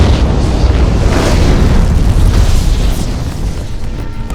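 Deep, sustained roar of a massive port explosion as 2,700 tons of ammonium nitrate in a warehouse detonate, a loud rumbling boom with broad noise that holds steady for several seconds and eases slightly toward the end, no voices.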